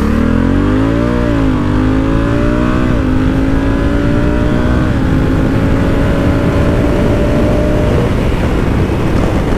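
A Honda Africa Twin motorcycle launches hard in sport mode, its loud engine note climbing steadily through several gear changes over constant wind rush, with no talking.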